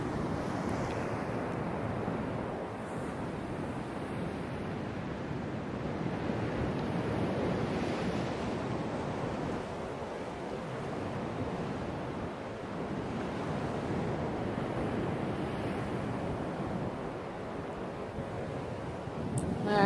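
Ocean waves break steadily on a Maui shore, a continuous, fairly quiet wash of surf with some wind rumble and no voices.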